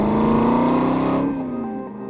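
Aston Martin V8 Vantage GT Roadster engine revving hard in a low gear, a close, loud, throaty drone climbing in pitch before easing off as the driver lifts, with no talk.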